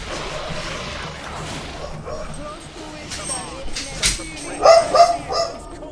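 Dogs barking and yipping in the PC game Greedfall, a few sharp barks growing louder toward the end over game sound and a talking voice.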